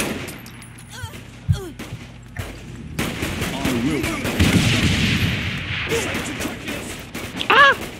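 Explosion and gunfire in the video game Saints Row The Third, a sharp blast followed by rolling bursts of shots and crashes, with game voices and chatter mixed in.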